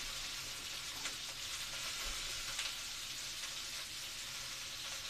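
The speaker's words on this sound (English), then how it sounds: "Sorry if that sizzle is pretty loud" Food frying loudly in a pan with onions, garlic and chipotle powder for a Tex-Mex bowl, a steady dense sizzle with a few crackles throughout, close and unbroken, no voices.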